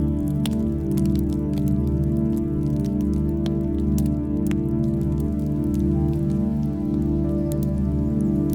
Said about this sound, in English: As the rain softens into silence